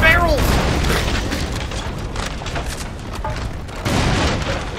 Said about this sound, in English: I'm gonna need an explosion to bring down the ceiling. Oh, there's... Shoot the explosive barrel!